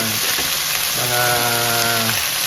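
Chicken pieces frying golden brown in their own rendered fat in a pan for Filipino chicken tinola, a steady close sizzle with soft crackle throughout and a faint tonal hum in the middle.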